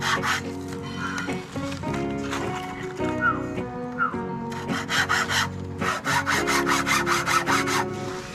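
A hand saw cuts through a bamboo piece, chopping it into 1.5-inch lengths with rhythmic back-and-forth rasping strokes that grow quicker and brighter toward the end. The sawing is close and steady, and a low tonal hum runs beneath it.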